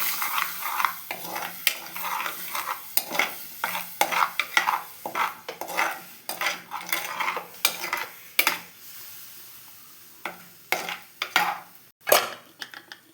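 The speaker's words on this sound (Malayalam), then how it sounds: "ഇനി നമുക്ക് ഇളക്കി കൊടുക്കാം എല്ലാം കൂടി" A spoon repeatedly scrapes and knocks through fish curry masala with ground tomato in a pan, in irregular strokes over a light sizzle, with clear metallic clinks and short pauses between strokes.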